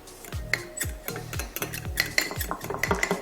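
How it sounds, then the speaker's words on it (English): A spoon stirs cornstarch and cold water in a cup, producing a steady rhythmic series of light clinks and scrapes against the cup, close up with no talking. "and then we're just going to stir."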